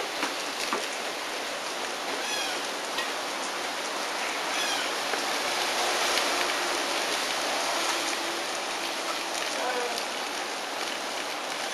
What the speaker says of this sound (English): What happened to the rain?